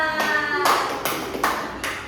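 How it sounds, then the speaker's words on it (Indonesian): A few separate bursts of clapping from pupils in a fifth-grade Indonesian language lesson, arriving in uneven strokes with a faint ringing tone at the start. "Beri tepuk tangan buat Nafisa."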